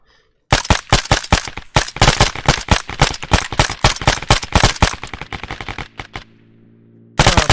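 Heavy gunfire in the video game Arma 3 in rapid, relentless bursts for several seconds, a brief lull with a low hum, then the shooting erupts again.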